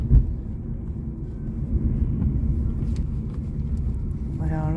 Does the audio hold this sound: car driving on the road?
yes